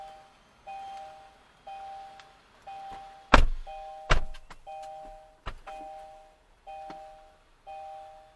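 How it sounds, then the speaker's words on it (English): A car's warning chime repeats a soft two-tone bing-bong at a steady pace inside the cabin, broken by a few sharp door thunks and clunks nearby, with no talking. "then it sets off another bloody bing bong"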